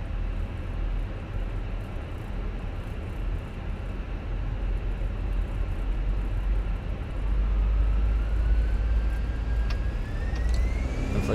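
Airbus A320 engines spooling up to takeoff thrust in Flight Simulator 2020, a steady loud roar with deep low rumble that swells louder partway through, joined by a rising whine near the end, with no talking.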